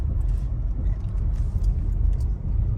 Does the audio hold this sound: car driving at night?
yes